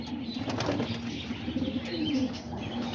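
Pigeons in a backyard loft on a rainy day coo softly and steadily, with occasional wing rustles over a constant background hiss, quiet and fairly close.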